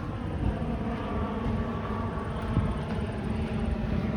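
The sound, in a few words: airplane flying overhead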